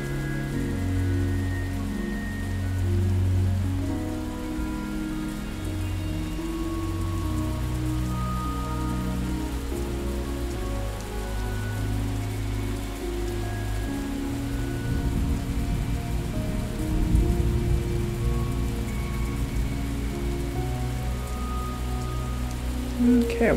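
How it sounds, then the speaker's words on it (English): Steady rain patters continuously on a surface in a video game, with low rumbling tones underneath and a brief thud near the end. "I wonder if we want to keep it raining"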